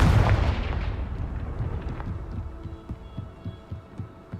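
Confringo fire spell blasting in the Hogwarts Legacy video game, a heavy booming impact that swells at the start and rumbles away over a few seconds with faint thuds trailing, no voice heard.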